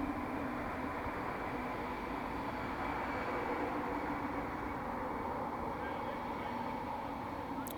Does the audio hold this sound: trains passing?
yes